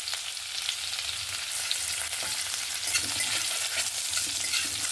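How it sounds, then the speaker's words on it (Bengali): Oil sizzles and crackles steadily as chopped garlic fries in a pan, with occasional stirring scrapes, loud and close with no talking. "রসুনটাকে একদম লাল লাল করে ভেজে নেব"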